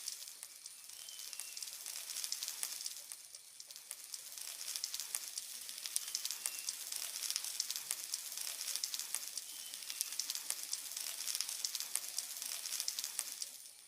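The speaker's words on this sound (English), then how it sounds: "Now let's fry these balls. Heat oil in a pan and gently drop the balls one by one." Small snack balls sizzling in hot oil in a pan over medium heat, a steady, soft crackle that continues evenly throughout with no talking.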